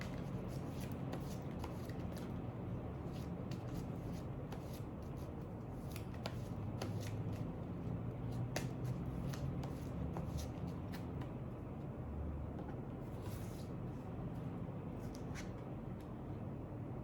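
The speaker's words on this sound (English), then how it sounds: "let me shuffle the cards for you." Tarot cards are shuffled over and over, with quick riffling flutters and soft slaps repeating at close range against a low background hum.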